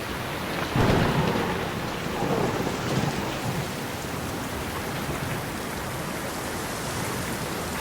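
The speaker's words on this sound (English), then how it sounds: "we're getting a real downpour right now" A heavy downpour on a Maui golf course roars steadily as thunder rumbles loudly near the start and then fades into the dense rain.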